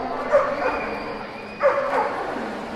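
Two bursts of dog barking and yipping from a dog named Buck up on the dock at a dock diving event at the AKC National Championship, with excited repeated barks at a moderate distance.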